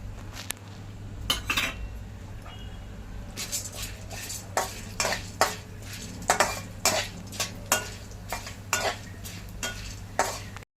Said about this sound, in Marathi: भाजली डाळवं तळून घेऊया